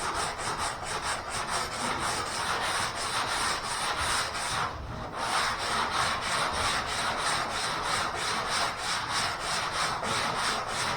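Continuous loud abrasive rubbing of body filler being sanded and shaped on a car panel, an even back-and-forth scrape sustained throughout with only a brief dip midway.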